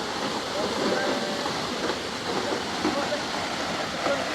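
The Semporonan waterfall on Lombok, Indonesia, roars as a steady broadband rush of falling water close by, with faint voices of people mixed into the constant wash.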